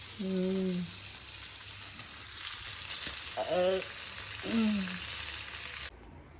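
Fish frying in hot oil, a close, continuous sizzle and crackle with a few brief bursts of louder bubbling. A voice is heard faintly at moments, and the sound cuts off abruptly near the end.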